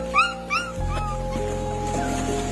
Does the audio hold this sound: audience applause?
no